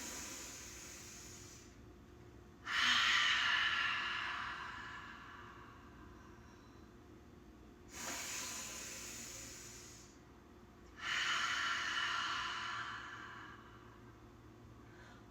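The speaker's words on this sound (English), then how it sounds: "Deep breath in." Three long, slow breaths in and out come from a yoga breathing exercise, each a soft, close airy rush that swells and fades, separated by quiet pauses.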